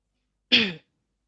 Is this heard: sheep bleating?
no